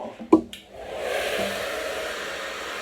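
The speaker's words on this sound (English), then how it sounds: "Get your blow dryer up on top." Handheld blow dryer running on short hair styled for moderate volume, a steady close rushing whoosh that starts after a few brief clicks and bumps and continues alone.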